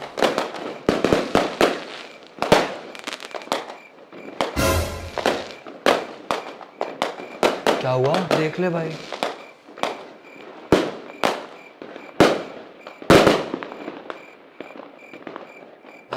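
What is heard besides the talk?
strings of firecrackers exploding during Diwali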